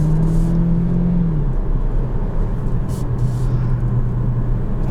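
A 2020 Kia Stinger GT-Line on the road, its engine producing a steady, close cabin rumble and whir with a shifting engine tone while it moves along at a good pace.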